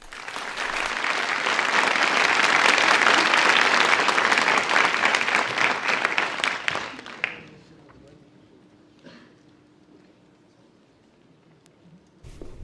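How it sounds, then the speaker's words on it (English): Large conference audience at a youth summit on human capital applauds loudly and steadily for about seven seconds before the clapping stops abruptly, leaving a quiet room with faint stray sounds. "One more round of applause for Dr."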